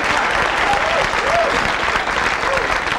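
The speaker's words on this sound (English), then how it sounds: "Give him a big round of applause." A studio audience at a 1977 Richard Pryor celebrity roast applauds for Reverend David Banks, with loud, continuous clapping and a few faint cheers running evenly from start to finish.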